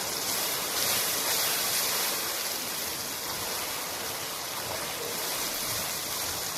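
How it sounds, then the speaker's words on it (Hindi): A double measure of water is poured into a cooking pot holding yogurt and boiled white chickpeas for chickpea pulao, a loud, continuous rushing splash that lasts the whole time with no speech. "इसमें हम पानी ऐड कर देंगे। पानी हम डबल ऐड कर रहे हैं इसके अंदर।"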